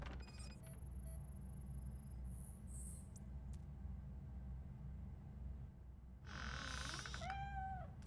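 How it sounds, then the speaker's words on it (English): In the video game Robocop: Rogue City, a cat gives a faint, drawn-out meow near the end, heard over a low, steady ambient hum. "Mr. Cat. But where are you hiding?"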